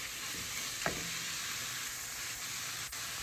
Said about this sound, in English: And saute this down really quick.